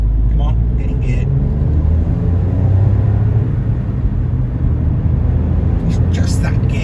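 A Smart car accelerates hard on a dual carriageway and changes gear, giving a steady engine and road rumble from inside the cabin, with a faint voice briefly audible.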